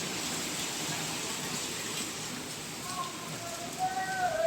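Heavy rain pouring outdoors during a dark monsoon storm, a steady dense hiss of falling water with faint background sounds toward the end.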